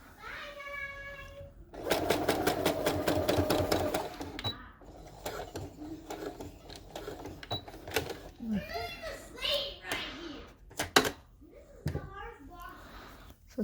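A sewing machine stitches lining onto a crochet tutu top in a rapid mechanical burst, then quieter intermittent whirring, with a voice and other speech over much of it.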